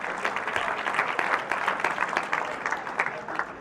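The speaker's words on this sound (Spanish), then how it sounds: "Un aplauso para las mujeres" A church congregation applauds in a dense, steady wash of clapping from many hands, filling the room for a few seconds.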